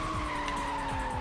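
A car in the Hot Wheels World Race video game skids hard off the handbrake, a continuous loud tire screech with steady engine drone that stays even for about a second.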